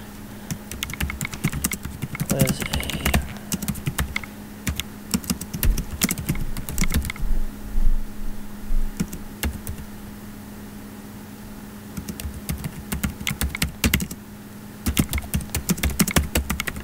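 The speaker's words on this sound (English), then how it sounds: "So I'm just typing something." Typing on a computer keyboard while writing a blog post, rapid clusters of sharp clicks with short pauses between bursts, close and alone with no voices.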